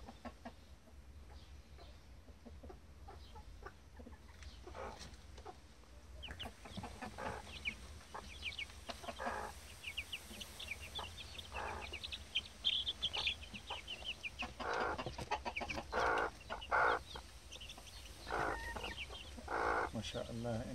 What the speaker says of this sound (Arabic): فراخ الدجاجة بدأوا يكبرون.